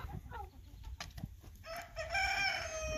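A flock of chickens clucking and a rooster crowing near a water setup, with rising crowing calls and steady clucks sounding close and lively through the second half.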